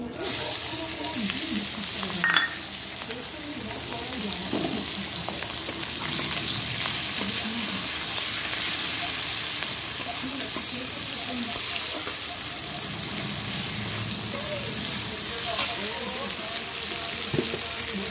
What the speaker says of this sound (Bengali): এখানটা একটু কালো জিরে দিয়ে দিলাম, আর এইখানে কাটা পেঁয়াজ আর লঙ্কা দিয়ে দিচ্ছি।